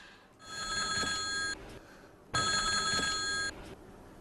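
A telephone rings in two long electronic bursts of about a second each, separated by a pause, fairly faint and alone in an indoor scene.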